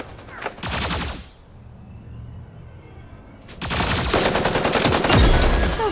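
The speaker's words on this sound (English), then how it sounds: "Shots heard!" Rapid gunshots and machine-gun fire from the Super Mecha Champions video game, loud and close, in dense bursts with a short quieter lull in the middle before heavier sustained firing.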